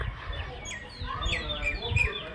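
Countryside birds, with a chicken nearby, give quick bright chirps and twittering calls in overlapping bursts, close and moderately loud over a low rumbling background.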